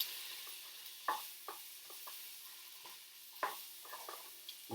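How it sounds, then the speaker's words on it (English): Onions, garlic and curry paste frying for a cauliflower and chickpea curry, with a soft sizzle under repeated scraping strokes of a spoon stirring around the pan, close and without talk. "give it a good old stir"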